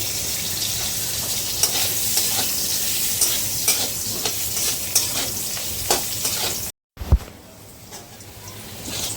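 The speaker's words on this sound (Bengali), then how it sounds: "আলুগুলো ভেজে নেব" Potatoes frying in hot oil in a kadai with a pinch of turmeric give a steady, close sizzle, broken by stirring scrapes and a brief dropout near the end.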